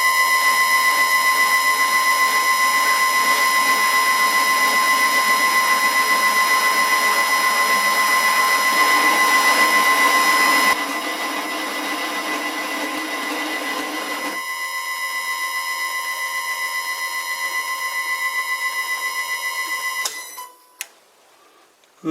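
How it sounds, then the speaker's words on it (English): A lathe machining a chamfer lead-in for the thread on a screw-on drill chuck arbor, a steady loud high-pitched whine with ringing tones that drops in level partway and cuts off near the end. "Next step is cutting a chamfer, or the lead in for the thread."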